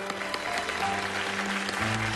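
Studio audience applause welcoming a guest onto a Chinese opera television show, a dense even patter of clapping over a low steady musical tone, with no speech.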